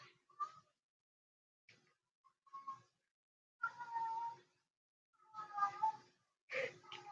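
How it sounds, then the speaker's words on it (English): A cat meows several times with quiet gaps between, faint and somewhat distant, the calls drawn out and wavering, some sounding like plaintive cries. "I don't know if you can hear that cat or not"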